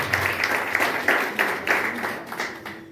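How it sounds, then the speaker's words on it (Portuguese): A church congregation claps in rhythmic bursts that come in steady waves, moderately loud, with a faint voice underneath. "Aplauda o Senhor por isso."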